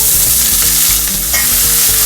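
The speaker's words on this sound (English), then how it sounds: "Now add the onions." Onions sautéing in hot oil with bay leaves and spices for vegetable dum biryani, a loud, dense, continuous sizzle with faint stirring underneath, close up and without speech.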